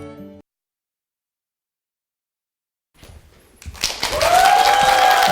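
An audience breaks into applause after a short gap of silence, and the clapping swells from scattered claps into a loud, dense, continuous roar.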